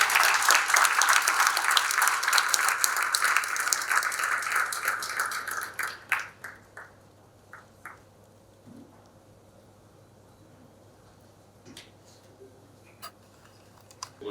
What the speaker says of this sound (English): A short interruption, a round of applause for Demendra.